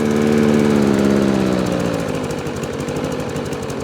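A petrol lawn mower engine, a Honda HRX 537 or Hayter Ranger 53, roars up close, its pitch sliding lower as the revs ease down to a steady chug.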